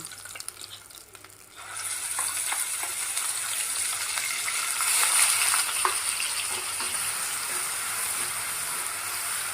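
Onion paste frying in a pan for a fish fry gravy curry: after a quieter start, a loud, dense hiss of frying rises and holds steady, with faint scattered stirring clicks underneath.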